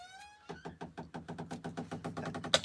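A door repeatedly knocks and bangs in a steady, fast series of about fifteen dull thuds at close range, growing slightly louder toward the end, with a faint tonal sound at the start.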